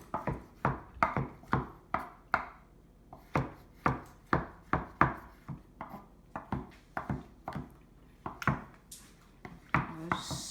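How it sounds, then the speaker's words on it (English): A knife roughly chops whole tomatoes on a cutting board for homemade pizza, a series of close, crisp thuds at an uneven rhythm, about twenty cuts with brief pauses between them. "give it a rough cut because I got whole tomatoes"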